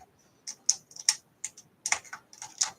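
Typing on the keyboard of a Compaq LTE 25 laptop: irregular, crisp key clicks in small clusters with short silent gaps, close up and fairly quiet, with no talk.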